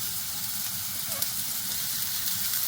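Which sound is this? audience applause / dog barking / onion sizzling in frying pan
onion sizzling in frying pan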